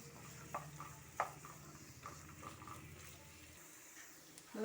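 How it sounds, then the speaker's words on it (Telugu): Vegetables frying in a pan for egg burji, a low hiss of sizzling with occasional spatula scrapes and taps, faint and close, ending in a brief clatter. "ఇవన్నీ వేయించుకుందాం."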